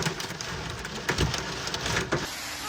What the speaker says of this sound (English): The wave of severe weather that hit the Marque region with rain, hail, and strong gusts of wind